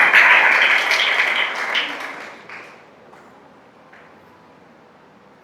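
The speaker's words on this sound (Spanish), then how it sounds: "Dale un aplauso a Jesús." A church congregation applauds, the clapping loud and dense for about two seconds before fading into a quiet tail.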